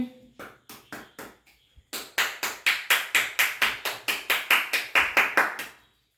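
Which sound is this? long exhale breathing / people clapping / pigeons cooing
people clapping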